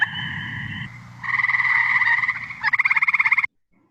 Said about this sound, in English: the reason I know that it's an eastern gray tree frog is because I heard this